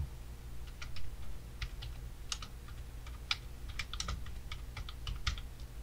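Fingers tap a computer keyboard while editing in Adobe Premiere, with quick irregular keystrokes in small clusters, close and fairly soft over a low steady hum, no voices.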